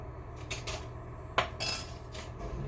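A spoon scooping about 25 grams of an ingredient for Japanese milk bread, giving light metallic clinks and scrapes against a container. The sounds come close by in a few short, separate taps over a quiet background.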